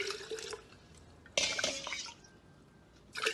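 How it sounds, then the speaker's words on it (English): Water poured from a drinking glass into a glass jar, with two bursts of splashing liquid and a softer trickle between them, close and fairly quiet. "let's see how many glass full of water it will fit in the glass jar"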